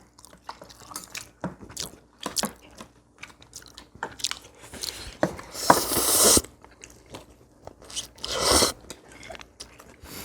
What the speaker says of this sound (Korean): 떡갈비 하나씩 먹어